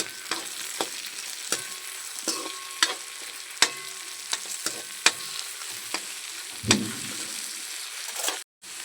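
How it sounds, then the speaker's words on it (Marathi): Tomatoes frying in a pan for upma, under a steady sizzle of oil, with repeated sharp taps and scrapes of a spoon stirring at an uneven rhythm and a louder splash-like burst near the end. "आता मी टमाटे टाकत आहे."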